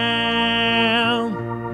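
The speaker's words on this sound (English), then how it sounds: "we hit the slow fast button on the rotary speaker" Organ tone through a rotary speaker switched from slow to fast, its sustained chord wobbling as the vibrato speeds up before the held notes shift and fade slightly, played alone at a strong level.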